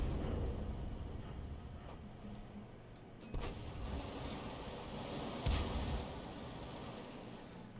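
Artillery fire from a 105 leFH18B2 self-propelled gun in a tank video game: two sharp booming shots, about two seconds apart, stand out over a constant loud rumbling battle background, with no talk.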